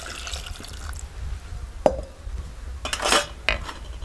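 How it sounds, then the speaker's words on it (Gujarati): Water splashing and dripping into a cooking pot for boiling chana and matki in a village kitchen, a few short uneven splashes and metallic clinks of the pot, close and moderately loud, with no talk. "હવે આમાં થોડુંક પાણી નાખી દઈએ આપણે"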